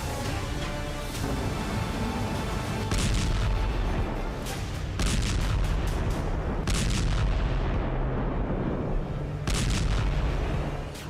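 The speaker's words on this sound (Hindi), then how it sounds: "काला सागर में यूक्रेन के बारूदी शोले बरस रहे हैं।" Artillery shelling and explosions from the Russia-Ukraine war near the Black Sea, a continuous barrage of heavy booms and blasts that keep overlapping with sharp bursts throughout.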